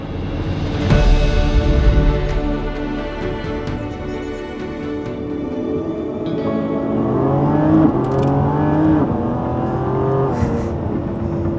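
A Lamborghini Revuelto V12 engine blips with a sharp roar, then settles and climbs through rising revs again, loud and close, with no talking.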